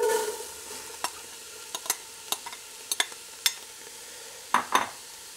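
Onions sizzle quietly in a chili pot with cooked meat, broken by a series of sharp scraping clicks as they are stirred, close and alone.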